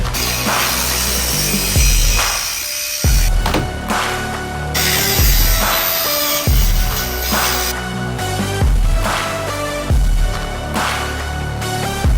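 Power tool cutting into a Jeep, a loud metallic grinding and whining that runs in repeated bursts with short pauses and restarts, harsh and close throughout.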